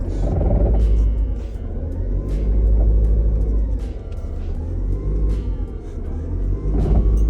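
A vehicle in drive with its frame under repair gives a steady, loud low engine rumble that swells and eases as the throttle is pressed, continuous throughout with no talking.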